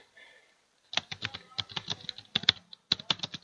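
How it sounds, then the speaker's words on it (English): Rapid, uneven clicking of keys on a computer keyboard, close and clear, starting after a brief quiet moment. "You hear clicking, that's just me being an idiot and typing on my keyboard."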